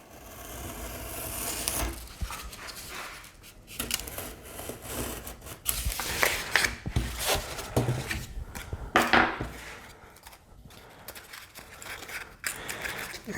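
Foam being cut into a clean wedge piece for a combat robot build, giving a close series of dry scraping and slicing strokes, irregular and moderately loud, with occasional knocks and no talk.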